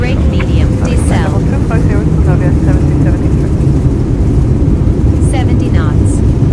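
An airliner touching down in a flight simulator with reverse thrust engaged, a steady loud broadband engine roar filling the whole clip while callout voices speak over it.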